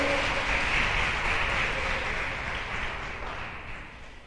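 A church congregation applauding, steady, dense clapping filling the room without voices, slowly fading out toward the end.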